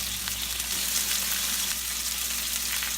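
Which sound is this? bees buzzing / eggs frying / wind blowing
eggs frying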